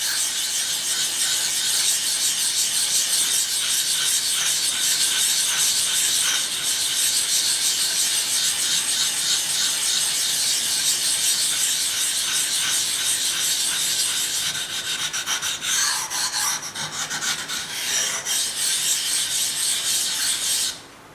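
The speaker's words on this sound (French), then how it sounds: "on se retrouve avec le grain 1000, donc encore avec la pierre Nagura. Je vais venir créer une petite pâte abrasive" A Nagura stone is rubbed on a 1000-grit whetstone to raise an abrasive paste, a continuous, close, gritty back-and-forth rasping that runs steadily throughout with no talk.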